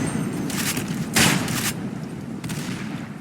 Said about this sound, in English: Probably an auto shotgun.